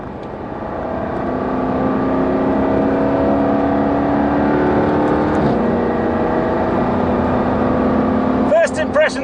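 A 600PS four-wheel-drive Jaguar Project 8 accelerates on a track: a loud, close engine roar builds and holds a steady, strained tone for several seconds, then fades at the end.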